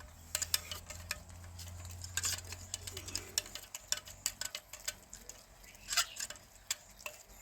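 Grape juice is stirred into sugar syrup in a pot with a spoon, giving a quiet run of light taps and clinks against the metal in an uneven rhythm over a soft background hum.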